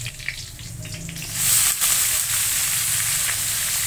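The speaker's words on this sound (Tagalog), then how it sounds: "Magigisa po tayo ng toge." Garlic and onion, already browned to the point of scorching, sizzle and hiss steadily in a pan as bean sprouts go in, with a louder surge of frying partway through and a low hum beneath.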